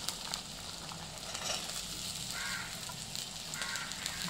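Green peas added to onions sizzling in a pan for matar poha, a steady close hiss of frying oil with soft crackles, continuous and fairly quiet.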